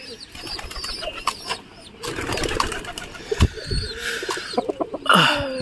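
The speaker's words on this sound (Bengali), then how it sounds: "পায়রা" Pigeons at a feeding spot coo and flutter their wings, with bursts of flapping and soft calls rising over a busy background, close and moderately loud.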